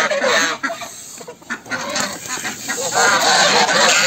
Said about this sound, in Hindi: इनके मुर्गी खाने के लिए आते हैं।